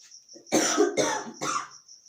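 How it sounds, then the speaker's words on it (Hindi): A woman coughs three times in quick succession, close and fairly loud, over a faint steady electronic whine. "इस समय खांसी आ रही है"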